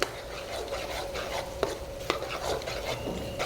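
A spoon scrapes and stirs mutton masala with pepper and green chili as it sautés in a pan, giving soft sizzling with sharp metallic clinks and scrapes at irregular intervals, fairly quiet and close.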